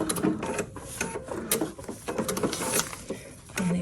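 A sewing machine quilts a child's fairy dress-up costume with paper backing, whirring in close, uneven bursts of stitching with short pauses in between.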